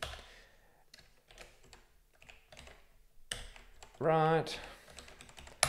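Light typing on a computer keyboard, soft scattered key clicks over several seconds, ending in a brief louder buzzing sound, with a short spoken word heard in the clip.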